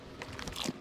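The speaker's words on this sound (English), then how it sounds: "Makes enough noise while he's eating, doesn't he?" A dinosaur in Jurassic World Evolution 2 chews its food with a run of loud, close crunching and biting sounds, wet and crackling, repeating rapidly without pause and heard alone.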